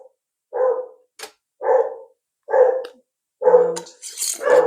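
House dogs in Northern Ireland bark at a delivery man at the door, loud, close barks spaced about a second apart, the last ones overlapping with a higher yelp.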